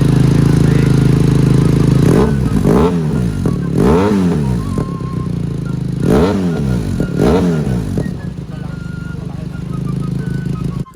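A motorcycle fitted with an aftermarket black exhaust pipe, revved close up in a series of sharp rising and falling bursts over a steady idle, with several blips in quick succession.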